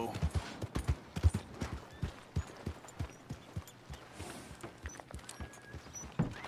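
Horse hooves clip-clopping at a walk in Red Dead Redemption 2, a steady run of soft thuds with scattered louder knocks, moderately near, with faint background game ambience.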